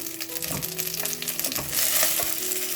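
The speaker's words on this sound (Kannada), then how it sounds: "ಆಮೇಲೆ ಒಂದು ನಿಮಿಷ ಇದನ್ನು ಫ್ರೈ ಮಾಡ್ಕೊಳ್ಳೋಣ" Eggplant and garlic fry in a pan over a low flame, a steady close sizzle with occasional stirring scrapes and clatter throughout, no voices.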